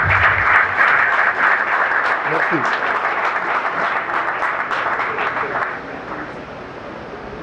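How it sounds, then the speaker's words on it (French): Audience applause fills a lecture hall, a dense wash of clapping that carries on for several seconds while a French-speaking voice speaks briefly over it, then tapers off. "On va vous applaudir."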